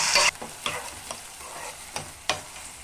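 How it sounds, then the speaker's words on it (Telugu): Onion and green chilli pieces sizzle steadily in hot oil while a utensil scrapes and stirs the pan every half second or so, close and clear. "onion green chilli pieces gold colour వచ్చే వరకు వేయించుకోవాలి"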